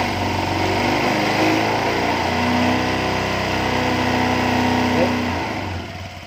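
A Honda Vario 125 FI scooter engine with its ECU just reset, revved repeatedly at close range with steady loud droning and throttle blips, the engine running continuously throughout.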